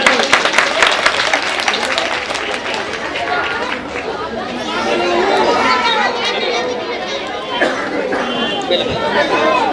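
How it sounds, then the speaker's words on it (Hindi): Crowd at a Delhi election rally applauding and chattering, a continuous dense wash of clapping and voices that holds steady for the whole stretch. "और जोरदार ताली बजा दो"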